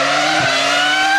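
A high-pitched V10 sports car engine, from a Porsche Carrera GT or Lexus LFA drag race, holds a steady, loud whine with a brief dip partway through.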